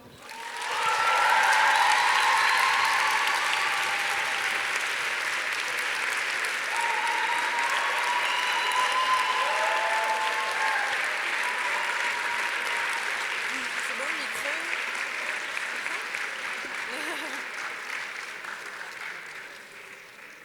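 Long, full applause from an audience at the grand final of a Grenoble prize competition, swelling early and then tapering off gradually over about twenty seconds as the jury arrives.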